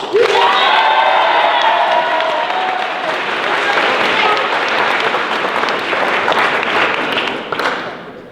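Audience at an improv comedy show bursts into dense, loud clapping with cheers and whoops, a voice briefly rising over the first few seconds before the steady applause carries on to the end.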